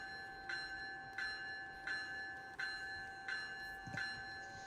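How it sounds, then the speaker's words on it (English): A game bell in Roblox tolls in a steady repeating rhythm, about seven clear ringing strikes at even intervals, faint and alone. "so now there's the bell"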